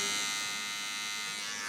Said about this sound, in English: I'm going to clean up around his ears with the trimmers